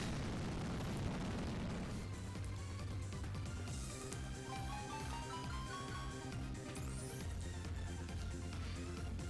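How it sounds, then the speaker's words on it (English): The Explosion move goes off in a Pokémon Omega Ruby/Alpha Sapphire battle as a loud, sustained booming blast with rumbling low end, followed by game music and effects continuing at steady volume. "Oh man, an explosion."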